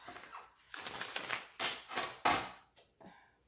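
Tarot cards are shuffled close by in several quick riffling bursts, crisp and papery, with brief pauses between them and no voices.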